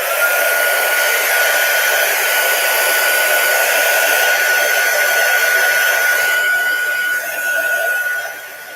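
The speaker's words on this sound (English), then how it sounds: "Let me dry these first." A hair dryer blows steadily and loudly at close range, drying chalk paste on a craft project, with a constant whine that holds for several seconds before dipping briefly near the end.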